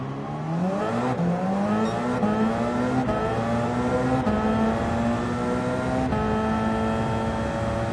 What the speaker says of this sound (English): Time for some limiter launching